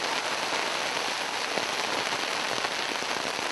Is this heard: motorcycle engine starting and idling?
no